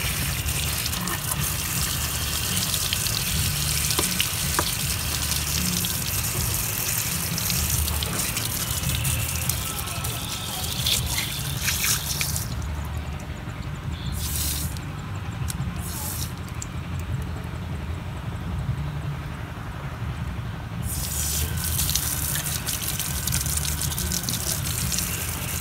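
Water sprayed at low pressure to clean a motorcycle chain and sprocket makes a loud, continuous gushing hiss that runs steadily throughout, with brief shifts in tone as the spray moves.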